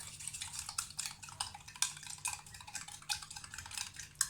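Batter for a quick microwave cake, with sugar just added to the dry powders, is stirred in a bowl, the spoon scraping and clinking against the sides in quick, irregular strokes, close and alone.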